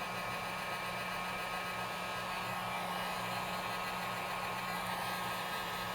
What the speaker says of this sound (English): I'm going to take the hot air gun or hair dryer, and I'm going to heat this area of the screen.